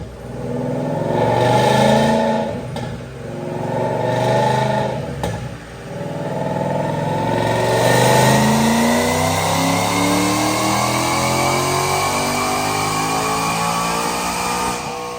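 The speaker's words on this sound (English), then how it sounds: "Check out this dyno pull." Supercharged 2014 Ford Mustang GT with a Roush 650R supercharger and Kooks exhaust, running on a DynoJet dyno: two short revs, then a long, loud full-throttle pull with the engine note steadily climbing through the gears.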